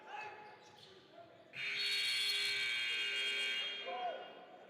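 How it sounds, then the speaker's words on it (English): A basketball game clock buzzer at a pro-am game sounds as a loud, sustained electronic tone lasting about two seconds, with a faint crowd and court ambience around it. "That buzzer went off there, Tom, but nobody touching the basketball."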